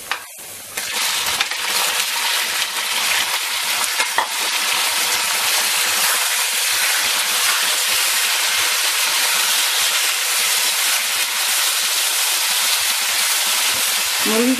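Chicken pieces added to a pan of browning garlic, sizzling loudly and steadily the whole way through, with a constant hiss and occasional stirring scrapes.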